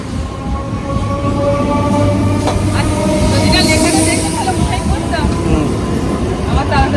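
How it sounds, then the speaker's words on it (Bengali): A train rolls into Kamarkundu station with a loud, continuous rumble and rattle of wagons and wheels, while people talk nearby on the platform. "আমাদের ট্রেন কামারকুন্ডু ঢুকছে"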